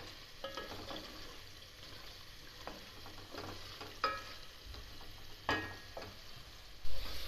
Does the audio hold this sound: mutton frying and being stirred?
yes